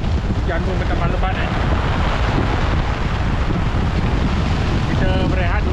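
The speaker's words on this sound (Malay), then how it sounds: "Angin bertambah kuat, hujan pun bertambah lebat" Strong wind and heavy rain batter a fishing boat at sea during a sea-fishing challenge off Port Klang, a steady loud roar of gusts, rain and water that fills the whole stretch, with faint voices in the background.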